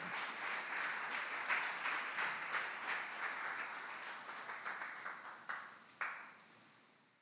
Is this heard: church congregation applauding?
yes